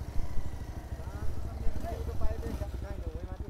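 Motorcycle on a mountain road to Nagi in Myagdi, Nepal, its engine throbbing in a steady low pulse close by while people talk over it.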